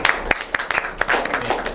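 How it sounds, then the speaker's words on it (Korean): Audience clapping after a speaker at a forum group discussion on base-station electromagnetic fields, a short burst of scattered hand claps in a room, fairly close and moderately loud, with no speech over it. "박수 한번"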